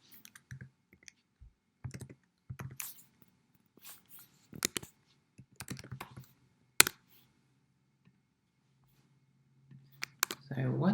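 Scattered bursts of keystrokes on a computer keyboard, crisp and close, separated by short silences, with a sharp single key tap midway and a faint hum underneath; no voice breaks in.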